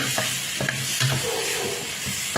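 Pounded chili and garlic being stirred and tossed without water in a kitchen: soft scraping and mixing with light sizzle-like crackle, quiet and with no talking.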